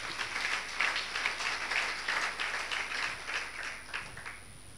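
A church congregation applauds during a Sunday worship service, with steady, dense clapping from many hands that holds at an even level for several seconds, with no talk over it.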